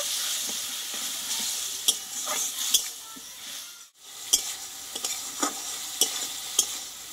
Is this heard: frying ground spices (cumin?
yes